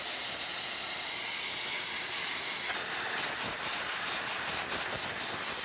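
A steady, loud steam hiss from a VBM espresso machine steam wand runs throughout, growing slightly rougher and more sputtering toward the end.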